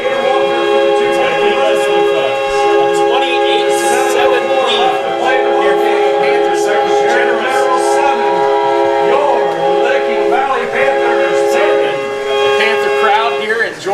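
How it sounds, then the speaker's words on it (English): Sustained train horn tones blare over a noisy high school football crowd, with clanking cowbell hits and a buzz of voices throughout. "as you can hear the train horns and the cowbells"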